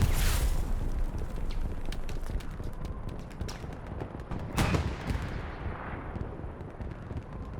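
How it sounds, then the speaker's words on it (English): Rocket artillery in the WWII strategy game Company of Heroes, on the Kursk Windmills map: a rumbling barrage of distant impacts with one sharper blast near the middle, under a continuous battlefield din. "Rockets falling short on both sides"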